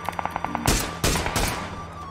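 Gunfire in the battle royale game PUBG: a run of quick, evenly spaced shots, then several loud close blasts with rolling echo trailing off behind them.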